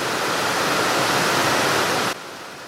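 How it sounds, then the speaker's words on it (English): Heavy rain pours outside a barn-like workshop building, a dense, steady roar of hiss that holds for about two seconds and then drops abruptly to a quieter wash. "it's raining like crazy outside."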